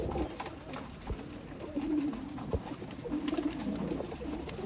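Pigeons of an old-line, top-quality breed coo softly in repeated low burbling phrases, fairly close, over a faint background hiss with no talk.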